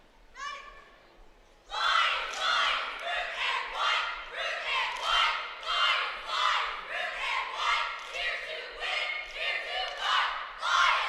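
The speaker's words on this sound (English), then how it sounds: "That was a very sharp and loud cheer" High school cheerleading squad at a championship shouting a sharp, loud cheer in unison, rhythmic chanted bursts rising and falling steadily after a brief opening call, with crowd ambience underneath.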